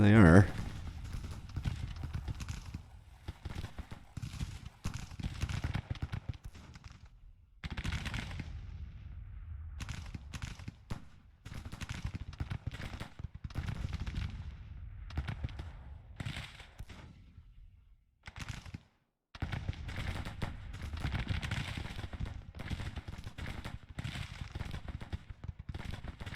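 Scattered Civil War musket and artillery fire crackles and thuds in repeated bursts across a Grand Tactician battle, fairly soft and distant, under steady talking throughout.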